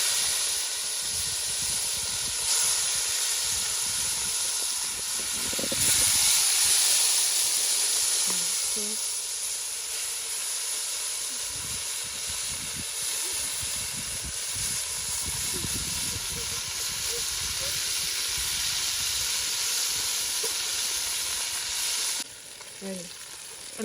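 Saltfish fries in a pan outdoors by a river, giving a loud, continuous close sizzle and hiss with occasional stirring scrapes throughout.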